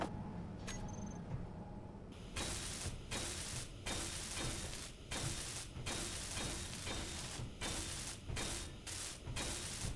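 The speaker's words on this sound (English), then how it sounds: "I'm gonna weld those blocks up." Steel plate blocks being welded in a survival video game, a loud harsh grinding buzz starting after a short quiet lead-in and running in repeated bursts separated by brief gaps.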